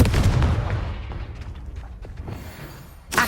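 Confringo fire spell blast from Hogwarts Legacy, a heavy booming burst up front that decays into a rumbling tail, with a second sharp impact at the very end, loud and close with no talking.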